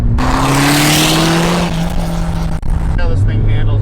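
A Mosler Consulier GTP-LX pushed hard around a corner, its engine droning loud and close with a rising then falling pitch as it powers through the turn, while people talk inside the car.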